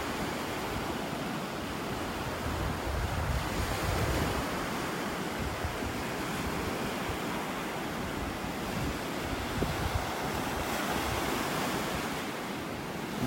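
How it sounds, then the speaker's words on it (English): Steady wind gusting across a beach in North Naples, Florida at sunset, a dense continuous roar mixed with the wash of surf, buffeting the microphone with no speech. "Wind's starting to die down just a little bit."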